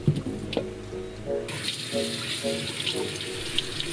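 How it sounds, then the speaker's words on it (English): Water runs from a kitchen tap over a large peeled beef tongue, splashing steadily after starting up partway through, with occasional knocks and clatter in the sink. "I wash them under running water."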